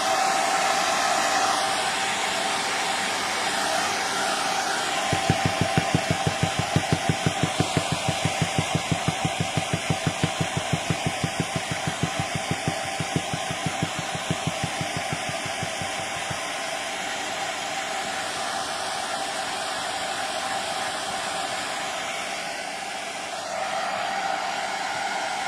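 A hair dryer blows on a painting, producing a loud steady close whoosh with a fluttering pulsing rumble in the middle stretch, running nearly the whole time and dropping briefly near the end.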